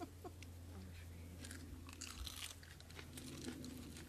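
A crisp Blondie Capsicum baccatum chilli is bitten and chewed up close, giving a run of quiet wet crunches and crackles over several seconds with no speech.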